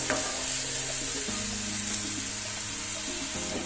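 Onion and coconut paste fries in a pan with a steady, close, continuous sizzle and a faint low hum underneath, unbroken throughout.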